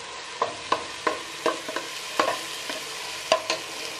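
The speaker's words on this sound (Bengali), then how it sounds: "এটাকে আমরা সুন্দর করে একটু কষিয়ে নিচ্ছি" Chicken and rice for bhuna khichuri being sautéed in a pan, with a steady sizzle broken by repeated sharp scrapes and clinks of a spoon stirring, about a dozen strokes at an uneven rhythm, close and fairly loud, with no talk.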